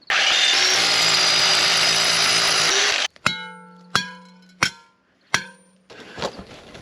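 A power drill bores holes into a concrete footing for rebar, a loud, steady whine for about three seconds, followed by four sharp metallic clanks and a closing burst of rattling.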